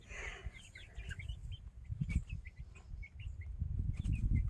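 Chickens moved into a newly finished outdoor area cluck and chirp close by, with a steady run of short calls and low clucks and no talking.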